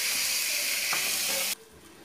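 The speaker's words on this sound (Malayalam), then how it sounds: "4 മീഡിയം സൈസ് ടൊമാറ്റോ ഇട്ടിട്ട് ഇളക്കി" Tomatoes sizzling and being stirred in hot oil for an Ambur biryani masala, a steady loud hiss with a faint scrape partway through before the sizzle cuts off abruptly, leaving quiet room tone.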